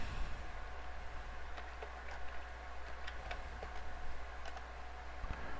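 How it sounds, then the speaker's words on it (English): Rapid typing on a computer keyboard: faint, scattered key clicks over a constant low electrical hum, close but quiet. "I keep typing."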